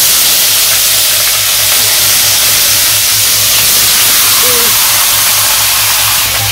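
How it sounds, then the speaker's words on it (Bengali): Meat hits a hot pan with cumin in a village kitchen, setting off a loud, steady, unbroken sizzling hiss that fills the whole stretch with no talking. "মাংসটা দিয়ে দিই"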